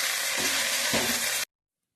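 Sorrel leaves (pulicha keerai) sauté in a hot pan, giving a bright steady sizzle with a couple of soft stirring scrapes before the sound cuts off abruptly.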